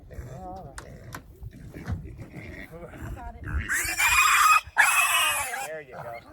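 Pigs on a farm squealing and grunting as they arrive at a new pig operation, loud, harsh squeals rising over people talking nearby.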